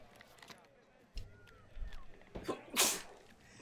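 A single sharp sneeze bursts out partway through, loud and close, amid quiet room noise and low murmuring voices during a gaming session.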